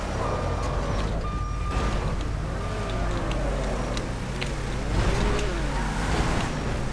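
A car driven in GTA 5 on a mega ramp troll course, a steady engine drone with pitch shifting as it speeds and slows, plus a repeating high beep, continuous and fairly loud.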